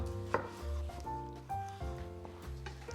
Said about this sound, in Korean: 토마토는 절반 썰어주시고 모찌리도우 두께와 비슷하게 썰어주세요